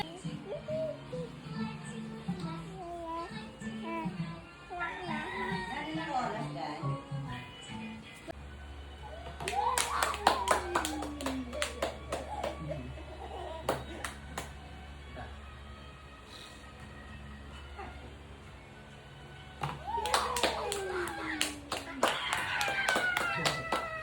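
Hands clap in short bursts around a child at a Christmas gathering, the claps mixing with chatter and voices close by, loudest in the middle and again near the end.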